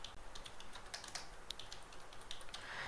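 Typing on a computer keyboard: quiet, rapid key clicks in short irregular bursts over a faint background hiss, with no voices.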